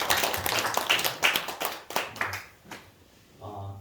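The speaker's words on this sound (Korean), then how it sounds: "우리 환영의 박수 하겠습니다" Welcoming applause from a church congregation at a Children's Day and 70th anniversary worship service, a burst of clapping close by that thins out, with brief voices mixed in.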